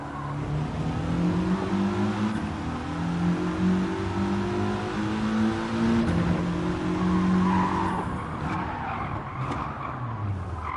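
Race car engine in Gran Turismo 7 on a circuit, holding high revs with steady rising and falling pitch and a squeal of tires, loud and continuous, easing off near the end.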